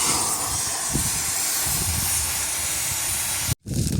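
A steady, loud, broadband hiss from a cutting torch, continuing nearly the whole time, with a brief cut-out near the end.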